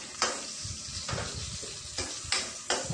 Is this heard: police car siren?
no